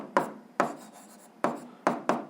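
Pen writing a physics formula by hand on paper, five distinct scratchy strokes in an uneven rhythm, close and clear, with quiet gaps between them.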